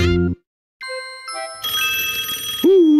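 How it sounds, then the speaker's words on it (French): Cartoon telephone ringing in Pocoyo: bright tonal electronic chimes that start and stop in short bursts, then a sustained shimmering ring, with no voices. "Le téléphone sonne."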